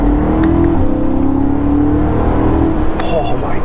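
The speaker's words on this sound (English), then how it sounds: "The acceleration with the supercharger and the way this car pulls, it's very similar to a Hellcat." A supercharged E90 BMW M3 accelerates hard with a loud, steady engine drone and a rising whine that stay close and constant, ending with a brief higher-pitched burst.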